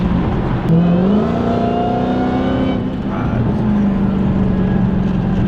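A Hellcat car engine revs loudly and steadily at a gas station, its pitch rising and holding, with a rough, throaty rumble close by.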